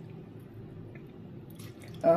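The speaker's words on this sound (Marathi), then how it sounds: "1-2 डावा पाणी मी तांदूळामध्ये उडदाच्या डाळीमधलं घालते आहे" A short splash of urad dal soaking water being poured into ground rice for horse gram uthappam batter at the very end, following a stretch of low, steady background noise.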